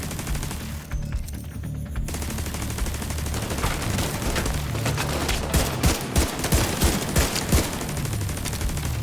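Sustained bursts of automatic turret gunfire in The Division 2, a dense rattling fusillade lasting the whole stretch and swelling into rhythmic volleys toward the end, loud and close with no talk.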